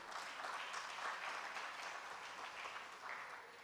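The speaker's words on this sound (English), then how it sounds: "And a big round of applause to everyone." A conference hall audience at an investment summit applauds, a soft, even wash of many hands clapping heard from a distance and holding steady for several seconds.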